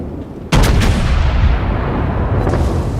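North Carolina battleship in World of Warships taking heavy shell hits: a sudden loud boom followed by a sustained roaring rumble, with a few sharp cracks early on and another impact near the end.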